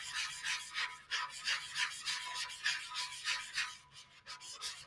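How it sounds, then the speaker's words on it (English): A tumbler cup is sanded by hand with steady, rhythmic back-and-forth rasping strokes, close and continuous, with no voice. "as you're sanding, you'll be able to see when you've gotten through it"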